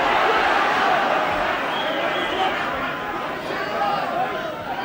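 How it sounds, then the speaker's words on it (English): Irish crowd roaring at the Chris Eubank vs. Steve Collins WBO super-middleweight boxing match, a dense, steady wall of arena noise with chatter and cheering that fades slightly midway. "just listen to the roars from the Irish crowd when Collins comes forward like that"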